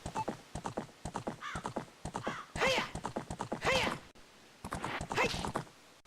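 Horse clip-clopping and neighing in Zelda: Ocarina of Time, a steady run of hoof beats with several loud whinnies rising over them, clear and close with no talk.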